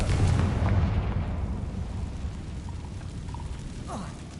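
A Confringo spell blast in a Harry Potter game, a loud booming explosion at the start that rolls off into a long rumbling decay, with faint crackling debris afterward.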